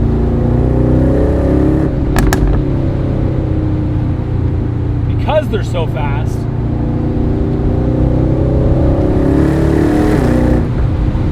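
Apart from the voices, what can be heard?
sports car engine revving, roof down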